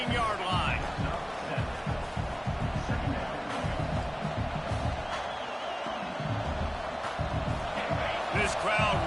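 Stadium crowd in the NCAA 26 football game, a dense continuous roar of cheering and noise swelling throughout, with commentary voices talking over it.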